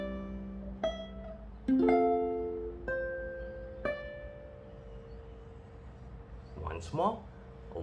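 A guitar plays bars 21 to 23 of the hymn Great is Thy Faithfulness as a few separate plucked notes that ring and fade, with spaces between them. A brief voice-like sound follows near the end.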